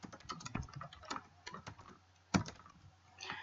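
A computer keyboard clatters under steady, fairly quiet typing as a dashboard name is entered, with a burst of keystrokes, a short pause, then one sharper key press and more tapping.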